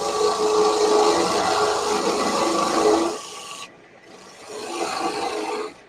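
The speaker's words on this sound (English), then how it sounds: "So I'm going to take my parting tool my Robert Sorby parting tool, and just right in that edge right there." A Robert Sorby parting tool cuts into the edge of spinning wood on a lathe with a loud, rough scraping rasp, breaks off briefly at about three seconds, then resumes more quietly with no talk.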